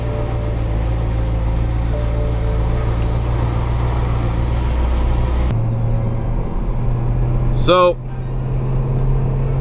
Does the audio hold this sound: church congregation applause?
no